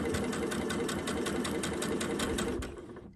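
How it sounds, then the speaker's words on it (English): A sewing machine stitches quilt binding in a steady, fast, loud mechanical whir with rapid regular needle beats, close up, then stops near the end. "You'll just keep on sewing all the way until you reach the other corner"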